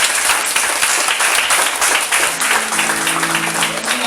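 A church congregation applauds during an Easter service, steady dense clapping filling the room throughout, with a few sustained sung or organ-like tones rising underneath in the second half.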